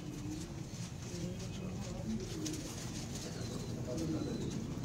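Pigeons coo repeatedly on a rooftop pigeon loft, soft low throaty calls layered over one another in a steady, continuous murmur close by, with faint background noise.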